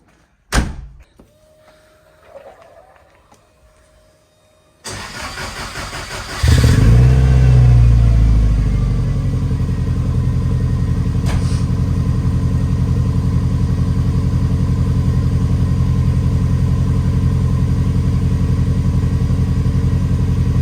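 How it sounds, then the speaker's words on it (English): A Subaru engine cold starts after a door thud and some quiet handling, cranking briefly and then catching into a loud, steady high idle that holds for the rest of the clip. "Cold start on the Subaru on the go for you."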